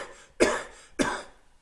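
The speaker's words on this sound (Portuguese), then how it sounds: "imagine que você está tossindo e fazendo..." Two forceful coughs, about half a second apart, done as part of a laughter yoga breathing exercise; each is a sharp burst that trails off, close and clear with no talk.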